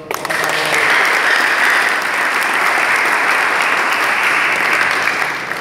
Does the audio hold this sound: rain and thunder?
no